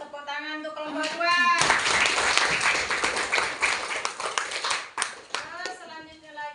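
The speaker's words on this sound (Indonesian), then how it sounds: "Tepuk tangan untuk kelompok 2." Classroom clapping for a student group: a burst of hand claps from a room of students lasting about three seconds, with a voice speaking before and after.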